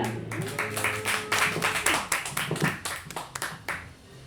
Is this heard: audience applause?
yes